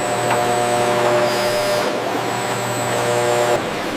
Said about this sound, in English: The molds pass over a vibrating table to ensure a flawless finish